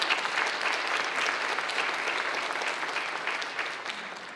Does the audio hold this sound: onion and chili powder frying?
no